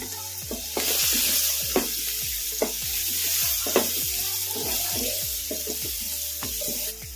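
Carrot chutney mixture sizzling and frying in a pan as half a spoon of turmeric powder is stirred in, with repeated scraping stirs over a steady close sizzle and no talk.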